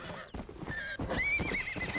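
A horse in Red Dead Redemption whinnies loudly up close, a shrill drawn-out neigh over clopping hooves and shuffling movement.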